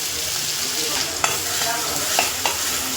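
Mustard seeds, green chili and ginger paste fry in hot oil for samosa filling, a loud continuous sizzle broken by a few sharp spatter pops and stirring knocks.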